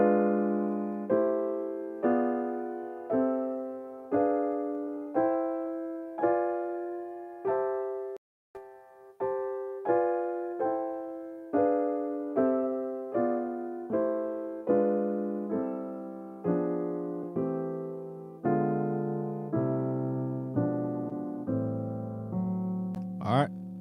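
Spread-out drop-two jazz guitar chord voicings ring one after another at an even, unhurried pace, each struck cleanly and left to decay, with no talking.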